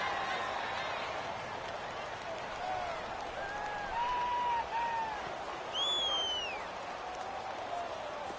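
A video-game football crowd roars in a Madden NFL matchup against the Bengals, building to a steady swell of cheering with whistles and rising calls across the stadium, mostly alone without talk.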